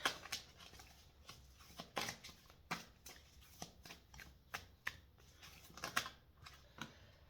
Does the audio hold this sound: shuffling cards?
yes